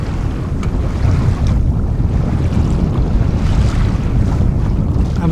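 The small sailboat Mingming II moves through wind and waves near Bear Island, giving a loud, steady rush of wind buffeting and water washing past the hull, with no voices.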